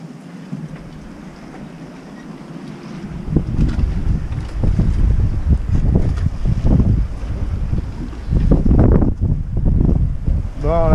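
Strong wind of about 20 knots gusts across a boat moored off Porto-Vecchio, Corsica, a loud steady roar that swells and buffets the microphone, with water sloshing beneath it.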